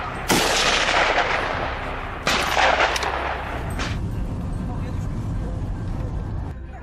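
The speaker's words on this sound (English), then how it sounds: "a decisive gunshot rang out" Hunting rifle shots fired at a wild boar at night: two loud sharp blasts about two seconds apart, each followed by a long rolling echo that fades away.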